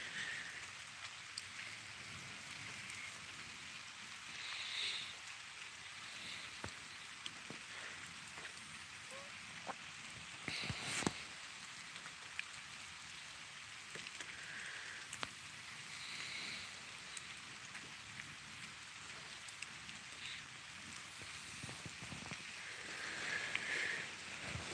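Icy rain falls steadily at night in the woods, a continuous wash of patter on surfaces with scattered sharper drops and occasional brief knocks, fairly faint and unbroken for the whole stretch.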